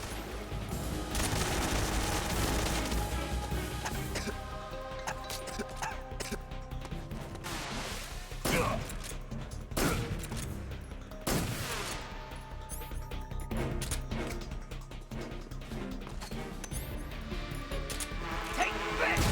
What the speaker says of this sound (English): Now he's got a Tommy gun out.